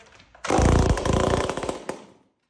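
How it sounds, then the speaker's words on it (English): A rebuilt Stihl chainsaw runs without its muffler, giving a loud, raw, crackling engine roar that bursts in abruptly, holds for about a second and a half, then cuts off, heard up close. "it's always fun to run a chainsaw without a muffler"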